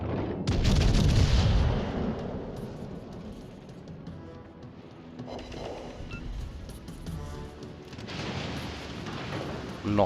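Heavy naval gunfire from a warship's rear turrets in World of Warships: Legends booms loudly at the start, then rumbles and fades into a lingering low roar, with a second swell of blasts near the end.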